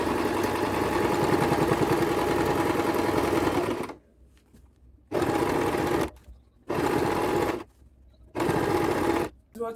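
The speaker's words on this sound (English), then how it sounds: "So this is me top stitching it." A sewing machine topstitches a shirt, running in a long continuous whir before breaking into three shorter bursts separated by quiet pauses, close and clear.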